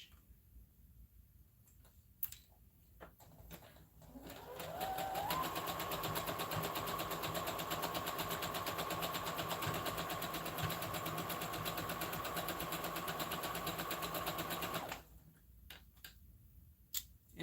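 A sewing machine runs a zigzag stitch with back stitching on homemade underwear, a steady whirring run of about ten seconds framed by scattered clicks and fabric handling before and after.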